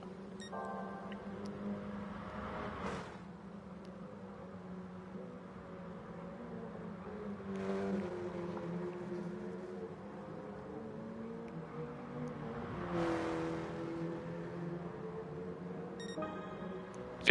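A KTM X-BOW race car circles Suzuka's East Course in Gran Turismo Sport, its engine a steady, moderately loud drone punctuated by a few rising gear-change surges and bursts, with no talk.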